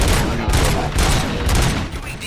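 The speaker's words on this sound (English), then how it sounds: "Gunshots? What's going on?" Heavy gunfire in RoboCop Rogue City, a dense, loud burst of overlapping shots and rattling automatic fire that runs steadily for a couple of seconds with no talking.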